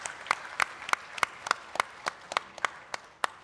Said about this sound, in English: So huge round of applause for that again,